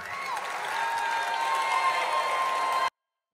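Rally crowd applauding and cheering after Donald Trump announces his run for President of the United States, a dense, steady wash of clapping and voices lasting nearly three seconds before cutting off abruptly.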